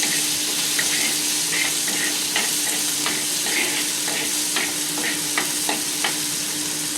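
Chopped onion, garlic and green chili sizzle steadily in hot oil, a loud continuous frying hiss broken by frequent scrapes and taps of a stirring spoon.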